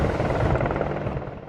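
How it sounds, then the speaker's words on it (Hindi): An Indian Air Force Apache attack helicopter fitted with missile pods gives a loud, close, rapidly pulsing rotor thump in a brief burst. "अपाचे हेलीकॉप्टर दिखा रहे हैं जो कि एक ऑपरेशन के लिए तैयार है"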